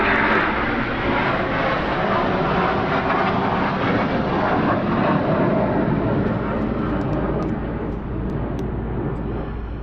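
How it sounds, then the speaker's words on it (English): A fixed-wing airplane passes overhead outdoors beside a garden where a McCulloch hedge trimmer is being repaired, a loud continuous broadband engine roar that stays steady and fills the whole stretch with no voices. "Just got a plane going over at the minute,"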